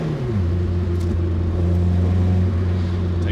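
A restomod Fiat X1/9 engine revs while driving, a loud steady mechanical drone that rises in pitch at the start and then holds near-constant, with no talk over it.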